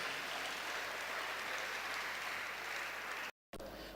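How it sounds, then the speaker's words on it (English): Audience at a church leadership conference applauds steadily, a dense even wash of clapping that fills the clip before a brief dropout near the end. "please put your hands together for Jesus"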